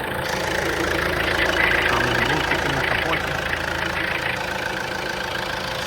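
A Fiat Freemont car engine idles steadily at close range, a continuous even hum that neither rises nor falls.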